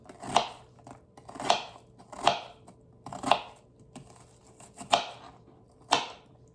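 A Rada knife chops an onion on a board, six crisp, separate cuts at a steady, unhurried pace, close and clear with no talking.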